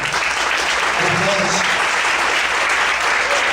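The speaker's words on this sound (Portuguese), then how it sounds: "Você pode aplaudir ao Senhor?" A church congregation applauds continuously, a dense, even wash of clapping that holds at the same loudness throughout.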